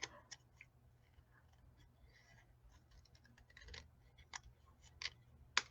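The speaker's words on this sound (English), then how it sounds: "And I'm just going to trim it" Scissors trim blue paper for a balloon treat holder, making faint, sparse snips and small clicks up close in a quiet room.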